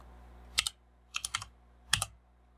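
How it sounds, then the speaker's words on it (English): A value is typed on a computer keyboard: a single key click, then a quick run of three or four taps, then one more click, crisp and close in a quiet room with a low background hum. "over here, go ahead and type in"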